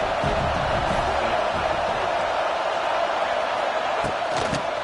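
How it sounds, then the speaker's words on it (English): Stadium crowd roar from a football video game, a steady, loud wash of massed voices filling the whole stretch, with a few sharp thuds near the end. "This crowd trying to make life miserable for this offense."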